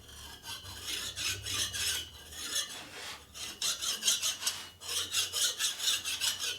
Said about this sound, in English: I'm going to take a file to it.